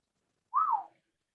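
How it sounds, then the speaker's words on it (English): A single short whistled note from a person, rising then gliding down, clear and close in an otherwise quiet room during a town board meeting. "Did I just whistle out loud?"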